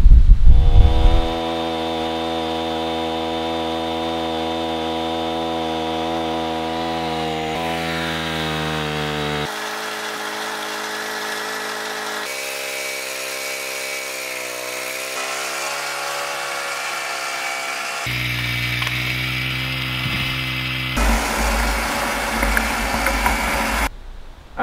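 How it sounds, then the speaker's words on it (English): A PCW3000 portable gas-powered winch runs steadily for the whole stretch, its engine drone holding a constant pitch, then shifting tone several times as the drum turns and pulls the rope under load, with no talk over it. "when the drum is turning, when I pull, the winch lifts in the air."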